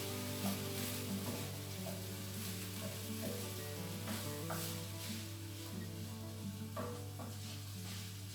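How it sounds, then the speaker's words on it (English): Basmati rice and peas being stirred in a single pan: soft, quiet scraping strokes over a low, steady hum and a faint sizzle. "Stir everything through."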